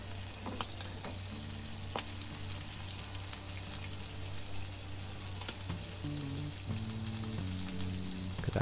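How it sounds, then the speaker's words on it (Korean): Tuna roe sizzles and crackles steadily as it fries in oil in a pan, a continuous close hiss with small pops over a low hum. "작은 알을 같이 좀 기름에 튀기듯이 익혔습니다."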